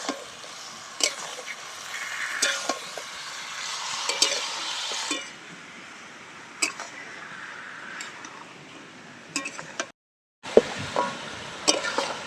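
Chicken and fried potatoes sizzle in a pan for a village-style red curry, with repeated scraping and stirring strokes over a steady fry, a brief pause, then more sizzling and stirring.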